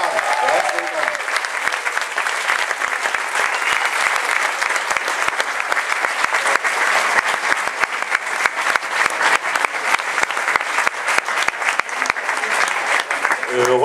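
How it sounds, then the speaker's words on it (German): Loud, sustained applause from a holiday club audience at a Magic Life resort show, dense clapping continuing throughout with a voice briefly audible near the start. "können wir dafür mal so einen tosenden Beifall spenden"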